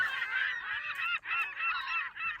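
Seagull-like bird calls in a song: a close, loud run of repeated honking squawks in quick succession, with no talk over them.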